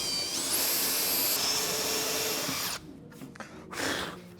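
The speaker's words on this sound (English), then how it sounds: "So I'm just going to drill a hole" A power drill bores a hole through a wooden surfboard template for an 8-foot mini mal: a loud, steady high whine runs for about two and a half seconds, then cuts off, leaving faint handling knocks.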